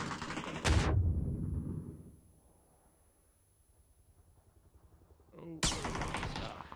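Gunfire in PUBG Battlegrounds comes as two sharp, loud bursts of shots, one at the start and another near the end, with a quieter stretch between them that carries faint rumbling and a voice.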